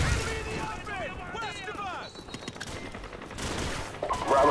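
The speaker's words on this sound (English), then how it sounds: "I'm gonna throw another grenade in there" Gunfire and explosions in Call of Duty 4: Modern Warfare, with short bursts and a dull blast around a grenade throw, mixed under radio chatter and other game voices.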